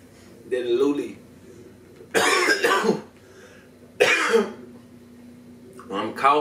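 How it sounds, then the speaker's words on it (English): A person coughs and clears their throat in several harsh, loud bursts spaced a couple of seconds apart, close to the microphone, with quiet gaps between. "When I'm coughing,"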